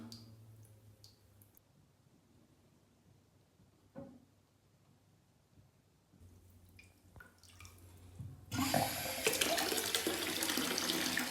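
Tap water runs into a bathtub: quiet drips and clicks at first, then a loud steady gush of pouring water near the end.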